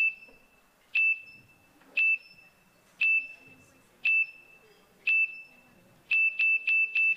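A quiz show timer sounds as time runs out in a team game show, loud electronic beeps repeating about once per second, then quickening into a rapid run of four at the end.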